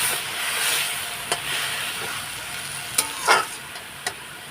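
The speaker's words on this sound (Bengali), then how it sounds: "তো এই যে যেটুকু জল আছে এটুকুই দেবো দিয়ে দিলাম ততক্ষণ একটু সিদ্ধ হোক" Ash gourd greens with shrimp, stalks and potatoes cook in a splash of water, making a continuous bright bubbling hiss and sizzle with a few sharp pops and clicks from nearby; no talking.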